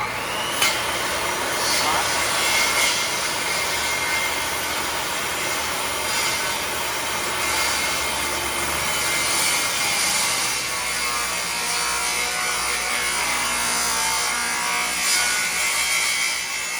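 A power saw cuts into a wooden post at roughly 1 7/8 inch depth, giving a sustained, loud, close whine with a constant rough buzz and slight variations as the blade works through the wood.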